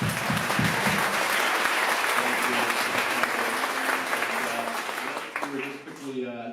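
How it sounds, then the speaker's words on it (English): Sustained applause from an event audience for volunteers and technicians, steady dense clapping that fades toward the end while a voice starts talking over it. "Let's just give another round of applause."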